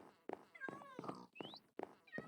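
Several short meows from a cat in Minecraft, some rising and some falling in pitch, come one after another in a quick, close series at moderate volume.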